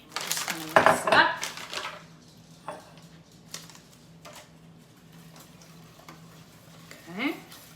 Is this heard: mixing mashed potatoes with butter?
yes